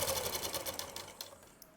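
A sewing machine stitches palazzo trousers in a fast, even, continuous run, soft and fairly quiet throughout, with no voices.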